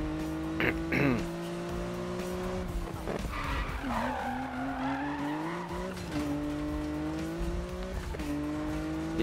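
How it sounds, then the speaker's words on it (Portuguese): A car drifts in the Need for Speed video game on PS4, with sustained tire squeals and skidding that rise and fall over a revving engine whose pitch sweeps up and down, loud and continuous. "Drift tão nervoso."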